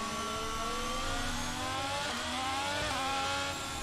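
F1 race cars from the F1 22 racing game roar past in a dense, continuous engine howl, several high-revving motors layered with rising and falling pitch sweeps, loud and steady throughout with no voices.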